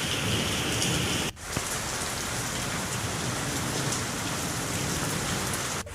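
Heavy rain pours down in Durg, Mungeli and Kawardha in Chhattisgarh, with strong winds. The downpour is a loud, steady roar throughout, broken only by a brief dip near the start.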